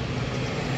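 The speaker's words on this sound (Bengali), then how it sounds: "বন্ধুরা আরও একটি বিমান নামছে" A Biman Bangladesh domestic airliner comes in to land overhead at low altitude, a steady, loud broadband roar that holds even throughout the brief moment.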